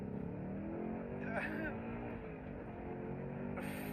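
A Ford Mustang Mach 1 in Sports Plus mode accelerates hard with its rear wheels spinning, giving a steady, loud engine roar throughout, with a brief higher whine partway through. Faint talk sits beneath it.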